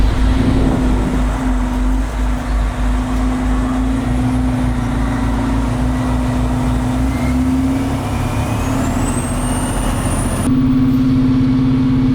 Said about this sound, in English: To be able to maneuver a fire truck of this size through a parking lot like this, this is skill.